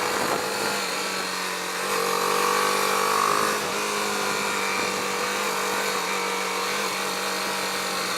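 A BMW G310R motorcycle engine at near full throttle, a steady buzzing whine with a rising pitch sweep, then an even drone under wind noise, with no talking.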